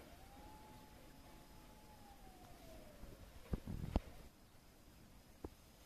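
A faint, distant siren wails in a slow falling tone over quiet outdoor ambience beside an irrigation canal, with a few soft knocks nearby.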